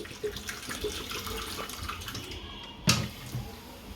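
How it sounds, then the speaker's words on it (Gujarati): Cold water runs and splashes over cooked dal, a continuous, fairly quiet watery wash ending with a sharper splash near the end. "ઉપરથી થોડું ઠંડુ પાણી નાખશું"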